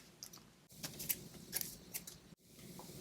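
Scissors snipping through paper to shape small Christmas gift tags, a run of quick close crisp cuts and rustles, with brief pauses between strokes.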